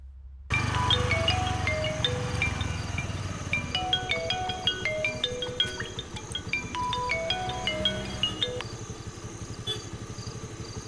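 A mobile phone rings with a repeating melodic ringtone in a Tamil film scene, clear bright tones cycling over a low background hum for several seconds.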